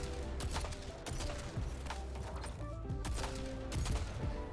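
Weapon fire rings out in a shooter video game, a string of punchy shots at an irregular rhythm with ringing tails, close and loud over continuous game background.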